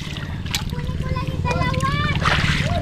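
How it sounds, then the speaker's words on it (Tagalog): Water splashes steadily into a bucket holding freshly caught river shrimp, an ongoing pour and slosh heard close up beneath a voice and other talk. "Lagyan ko tubig."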